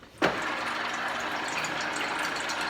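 Water pours in a steady, loud rush into a pot for chicken stock, beginning with a sharp splash and then continuing as an even, close gush with no voices.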